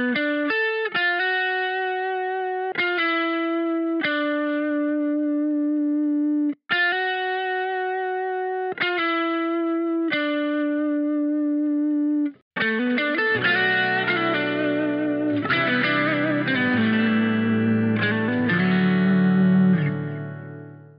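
A bright, buzzy lead melody plays sustained notes embellished with quick chromatic grace-note slides into each pitch, later joined by a denser layered accompaniment that swells toward the end.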